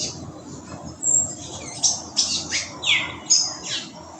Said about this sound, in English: that call you just heard is a greyish saltator.